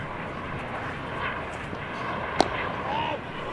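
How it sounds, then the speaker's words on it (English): A helicopter passes overhead at a county cricket ground during a Somerset versus Essex match, its steady droning engine noise sitting low and constant beneath the ambient crowd sound, with one sharp knock partway through. "With a helicopter flying overhead."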